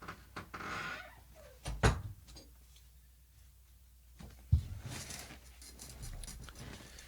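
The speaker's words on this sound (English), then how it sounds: "Sorry, I had to let Max out." A house door is opened to let a dog outside, with two sharp knocks or clunks of the door and latch amid quiet room tone and faint shuffling.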